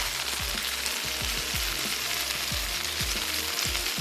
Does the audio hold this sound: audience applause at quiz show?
no